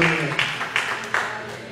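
A church congregation claps during worship, a diffuse crowd of hands with a few louder swells, fairly close and steady across a short stretch with no talk over it.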